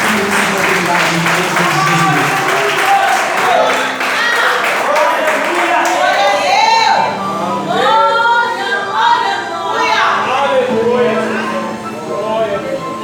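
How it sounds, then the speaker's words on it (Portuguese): A church congregation applauding during a men's service, a continuous clatter of clapping hands mixed with cheering voices and people talking over it, swelling midway. "E você pode aplaudir o Senhor nessa noite."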